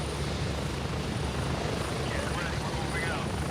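A helicopter flies in the video game Gray Zone Warfare, its rotor and engine drone steady and loud throughout, with voices faintly mixed beneath the noise.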